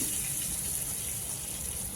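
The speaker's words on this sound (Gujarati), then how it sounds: "આવી રીતે પાણી ઉમેરી દેવાનું અને ફરી ઢાંકી દેવાનું" Water pours in a steady, continuous stream into a cooking pot of spiced dahi tikhari, with a bright hissing splash that holds constant throughout.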